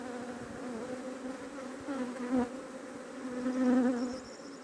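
Honey bees swarm up around an opened hive in April, a dense, continuous buzzing that swells and fades as they circle close, with no talking.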